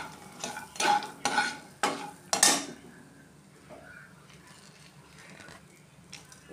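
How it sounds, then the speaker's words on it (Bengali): Cumin, cloves, cardamom, cinnamon and cashews frying in butter in a pan, heard as several sharp clattering stirs and scrapes of a spoon against metal, then a faint quiet sizzle. "জিরে, লং, এলাচি, দারচিনি, কাজু বাদাম যা নিয়েছি সবগুলিকে ভালো করে আগে এখন ভেজে নেব"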